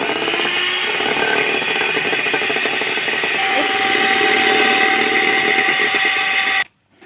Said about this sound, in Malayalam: ഇനി നമുക്ക് ഇത് നല്ലോണം ബീറ്റ് ചെയ്തെടുക്കണം.